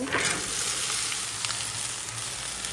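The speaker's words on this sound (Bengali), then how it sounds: "এইগুলা সুন্দর করে একটু ভেজে নেব" Okra fries in hot oil in a pan with a dense, steady, close sizzle that carries on unbroken throughout, with no talk.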